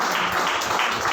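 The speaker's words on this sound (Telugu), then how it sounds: "కొట్టండి చప్పట్లు గట్టిగా." A congregation at a Friday prayer meeting in Piduguralla claps together, a brief burst of dense, loud applause with no speech over it.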